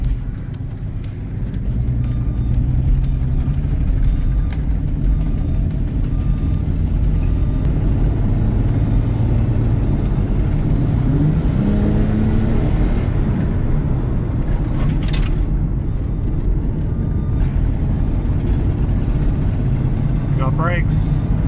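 An AU Ford Falcon ute with spongy brakes on a first test drive gives a steady, loud engine and road rumble that holds throughout, with a brief whine near the end.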